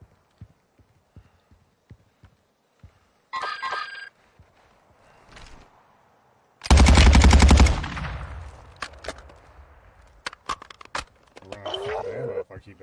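Gunfire in a first-person shooter video game comes as a loud burst of rapid automatic shots in the middle, with scattered shorter shots and game effects around it and a player talking at times.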